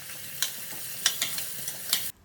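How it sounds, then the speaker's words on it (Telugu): Chopped onions frying in oil in a pan: a soft, steady sizzle with several scraping stirs of a spoon, close and fairly quiet, with no talk. "మనం కట్ చేసుకున్న ఆనియన్స్ ఉన్నాయి కదండి, చిన్న చిన్న ముక్కలుగా అవి వేసుకొని బాగా ఫ్రై చేసుకోవాలి"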